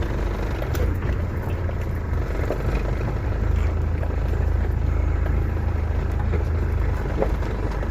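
A car drives along a muddy road flooded by the Gamka river, its engine giving a steady, close, unbroken low rumble throughout with no voices.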